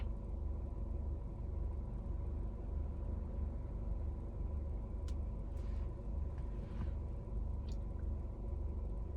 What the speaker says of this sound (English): I know y'all can hear my car.